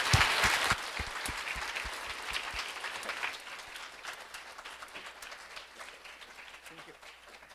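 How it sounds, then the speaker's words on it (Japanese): An audience at a church service gives a round of applause for Yana and Chris, loud at first and then thinning to a few scattered claps as it fades, with talk over it. "one more round of applause for Yana and Chris"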